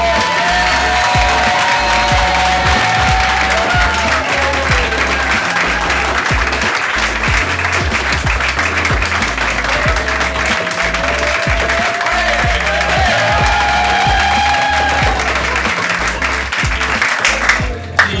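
A live audience applauds continuously and loudly, dense clapping filling the whole stretch with faint background voices mixed in, tapering only at the very end.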